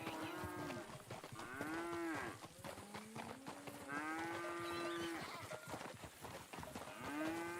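Cows in the RedM video game low out in a run of long, drawn moos while being milked at a farm, several calls repeating close up and loud with background game ambience and no talk.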